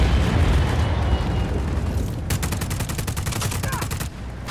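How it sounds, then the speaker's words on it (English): A big artillery cannon in the Just Cause 4 video game fires in a fast, dense barrage of booming blasts, loud and continuous, rolling into rapid crackling bursts near the end. "There was a big ass artillery cannon there."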